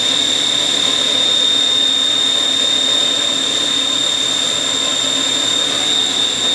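A 1998 Haas HS-1RP CNC machine spindle spins at 5,000 RPM, a loud, constant high-pitched whine with steady tones and a broad mechanical hum underneath, no voices.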